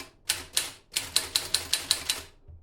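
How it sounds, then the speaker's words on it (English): Keys strike a manual typewriter in capital letters, about nine crisp, sharp clacks at an uneven typing rhythm, close and alone, with a short pause after the first two. "So now we are ready to type. So I'm going to use capitals for this."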